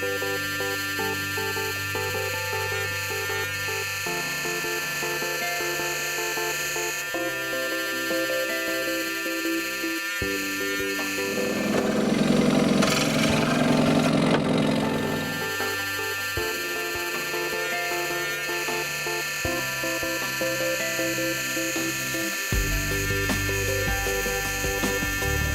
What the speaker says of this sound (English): And then I got to work with the scroll saw, cutting away most of the waste stock.